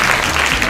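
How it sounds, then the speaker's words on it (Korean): Audience applause closing a student self-directed project presentation event, a steady dense wash of clapping filling the short moment without voices. "박수로 마무리하겠습니다."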